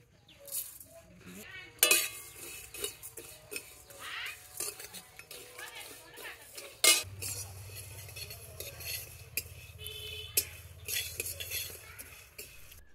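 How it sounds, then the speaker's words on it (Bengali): Fennel, cumin, coriander and cinnamon dry-roast in a wok while a utensil stirs and scrapes, with irregular clinks and a low background hum. "কড়াতে মৌরি, জিরে, ধনে, দারুচিনি দিয়ে সেটা নেড়ে চেড়ে ভালো করে ভেজে নেব"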